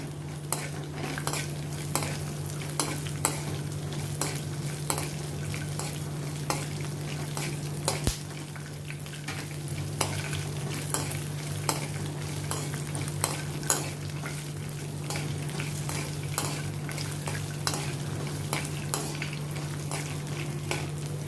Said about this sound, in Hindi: इसमें भी मैं 2 हरी मिर्च कटी हुई डालती हूँ, इनको भी अभी मैं रोस्ट कर लेती हूँ